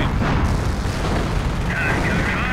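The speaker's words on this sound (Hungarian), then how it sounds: "Hívtam oda bombázást." Deep, rumbling explosions boom continuously from artillery bombardment in the game Company of Heroes, loud and sustained throughout.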